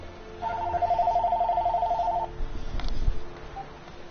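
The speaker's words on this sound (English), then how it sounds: "now I got a phone call" A telephone rings for an incoming call, one sustained electronic ring of about two seconds, fairly loud and close, followed by a few soft thumps and handling noise.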